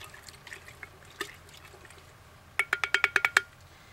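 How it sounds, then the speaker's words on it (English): Alcohol and glycerin tanning mixture being stirred in a container for rattlesnake skin, with soft liquid swishes early and then a quick run of about eight sharp clinking, splashy strokes close by. "So I'm gonna stir this up."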